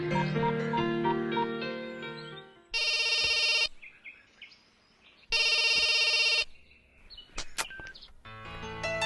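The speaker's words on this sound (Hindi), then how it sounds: "फोन नहीं उठा रहा यार।" A telephone rings unanswered in repeated electronic bursts, two long loud rings separated by pauses, set against background music and chirpy tones.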